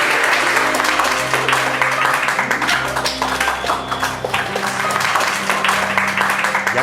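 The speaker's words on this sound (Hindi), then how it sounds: "जोरदार तालियां" Children in a classroom applauding loudly, a dense continuous burst of many hands clapping at close range for several seconds.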